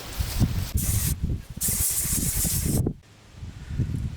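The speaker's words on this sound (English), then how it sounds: "You can see I'm overlapping the spray a little bit." Graco Project Painter Plus paint sprayer hissing steadily in bursts while coating a DIY chicken coop, with short pauses between passes and low handling noise underneath.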